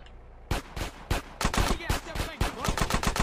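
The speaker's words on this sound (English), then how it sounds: "I had to shoot through Troy there." Gunfire in a GTA video game rings out as a rapid series of loud, close shots, first spaced bursts and then a quicker volley, with no talk over it.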